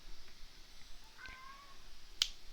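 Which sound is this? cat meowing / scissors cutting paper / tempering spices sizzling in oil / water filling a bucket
cat meowing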